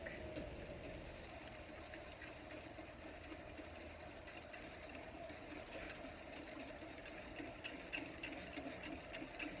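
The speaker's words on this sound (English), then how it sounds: "Let's whisk." Lemon curd mixture being whisked in a bowl, a quiet continuous rapid rattling with fine metallic ticks, steady and close at low volume with no talk.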